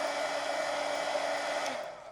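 Steady, loud blowing roar of a heat gun drying a watercolor wash on an adult coloring book page, continuous and close before tapering off slightly at the end.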